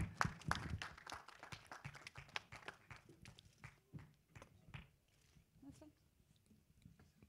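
An audience claps at a film trailer launch for the movie Irada. A burst of scattered claps comes first, then thins out into quieter, sparser claps, with a little voice mixed in.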